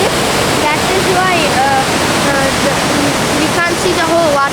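Fukiware Falls in Gunma, Japan, pours as a loud, steady broadband roar of rushing water close by, with people talking over it throughout.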